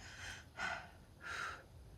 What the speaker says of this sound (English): I'm going to take a little breath.